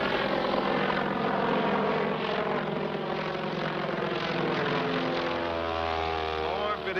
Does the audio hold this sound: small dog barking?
no